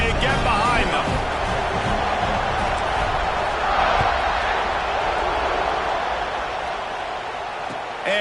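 College football stadium crowd roaring before the kickoff, a dense, steady wall of cheering and noise that stays loud throughout with no clear gaps.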